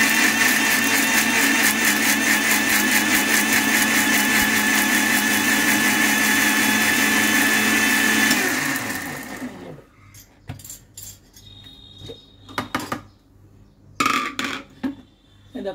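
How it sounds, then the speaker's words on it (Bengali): A blender whirs loudly and steadily as it purees apple and pomegranate paste with water, then switches off, leaving a few scattered clinks and taps of the jug and utensils. "এগুলোকে আমি একটা ব্লেন্ডারের সাহায্যে ব্লেন্ড করে নিয়ে এটা থেকে আমি রসটাকে ছেঁকে বের করে নেব"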